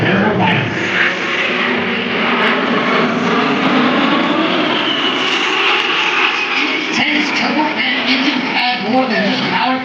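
An A-10 Thunderbolt II Warthog jet flying a demonstration at an airshow, its engines giving a loud, sustained roar throughout while an announcer talks over it.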